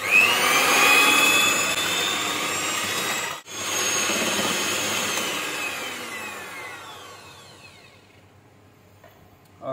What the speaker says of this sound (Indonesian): Saya akan coba mixer sebentar.